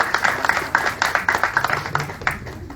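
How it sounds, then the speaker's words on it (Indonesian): An audience applauds at a film promotion event, with brisk, fairly loud clapping that pulses unevenly and stays steady throughout. "Tepuk tangan dulu teman-teman."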